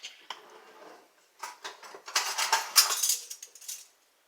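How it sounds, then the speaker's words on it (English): Spoon clinking against a bowl while adding baking soda to sugar-free cream soda brownie batter, making a series of light metallic taps and scrapes that build into a busier clatter, close and without talk. "I'm going to put just a little bit of baking soda in there."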